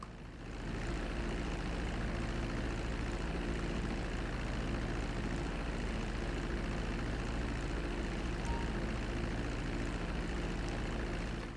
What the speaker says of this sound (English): Okay, so we're going to land the plane.